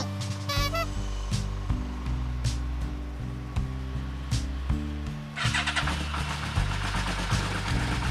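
A Yamaha Vmax1200 motorcycle engine cranks and catches, then settles into a steady, loud, close idle with a deep rhythmic throb and no one talking.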